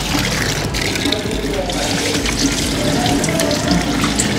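Water splashes steadily over a car wheel rim during a rinse, a close, continuous spray and trickle with a faint voice underneath.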